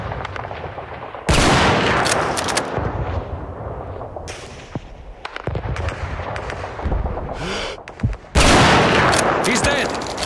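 Loud gunfire bursts in Call of Duty 2 as a sniper shot kills a German major across a town square, with sharp blasts, sustained battle noise and a final heavy shot near the end; speech-like sounds are mixed in.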